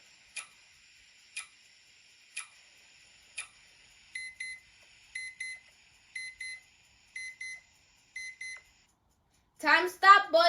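A timer alarm beeps close and clear, first as single spaced beeps, then as quick doubled beeps, before a voice speaks briefly at the end.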